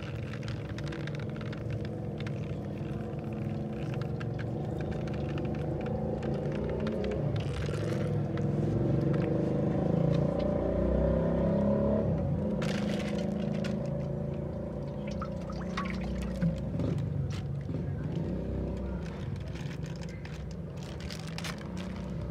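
Water poured and splashed over a Honda CD 70 motorcycle engine during an engine wash, a steady rushing pour with scraping noises continuing throughout, close and fairly loud.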